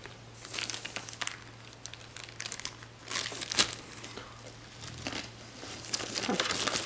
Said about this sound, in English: I'm gonna, like, you know, unwrap this thing